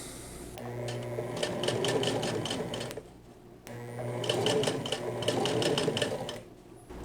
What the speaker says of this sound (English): Now I'm top stitching all of this down along the bottom of the waistband